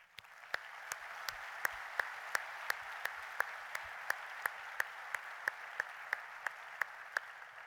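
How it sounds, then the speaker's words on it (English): Audience applause at an engineering awards ceremony, a quiet, steady wash of clapping from the hall with a single sharper clap cutting through at an even, regular beat. "I would like you all to join me in a round of applause in their honor."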